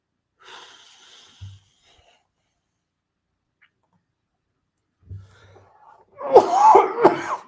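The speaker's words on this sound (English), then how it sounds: "Still got a cough." A man coughing close to a microphone: a faint throat sound early on, then a harsh, rough burst of several coughs near the end after a quiet pause.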